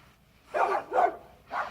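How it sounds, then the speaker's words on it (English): Indoor dog barking in the background, three separate loud barks spaced evenly apart with quiet between them. "excuse my dog in the background."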